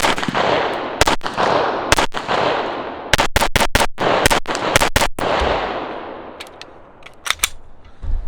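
A Taurus TX9 pistol with a 4.5-inch barrel and 17-round magazine fires a rapid string of sharp, loud shots outdoors, some in quick bursts, with an echoing tail after each report.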